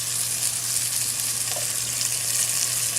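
Meat sizzles loudly in a pan with tomato paste and sauce for an Italian Napolitana ragu, a steady dense crackling hiss with a faint low hum underneath and no voices.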